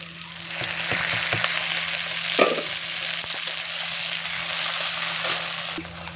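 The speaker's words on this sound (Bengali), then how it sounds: "এদিকে কড়াইতে তেল দিয়ে দিয়েছি দিয়ে এবার দিয়ে দিচ্ছি পেঁয়াজ আর দিয়ে দিচ্ছি টমেটো কুচি আর লঙ্কা" Onion, chopped tomato and chili fry in hot oil in a wok, a steady close sizzle with a brief louder crackle burst near the middle as ingredients hit the oil, plus scattered stirring clicks throughout.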